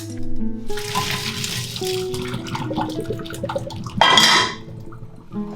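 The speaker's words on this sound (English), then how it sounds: "just rinse it in cold water" Cold tap water runs and splashes into a pot or sieve while wood ear mushrooms are rinsed, with clinking of cookware, a louder gush near the end.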